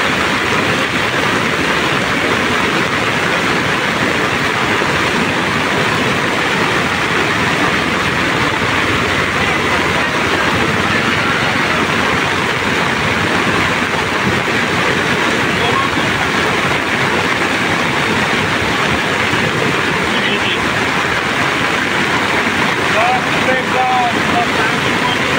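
A flooded Sardu river (Sardu Khola) pours past in a strong, steady roar of rushing water, loud and continuous throughout with broadband wind-like noise and no break.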